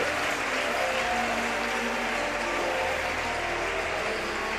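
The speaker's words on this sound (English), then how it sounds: "excellent applause for the Italian player" Steady audience clapping greets an Italian wheelchair para table tennis player, a dense, even wash of applause lasting a few seconds without pause.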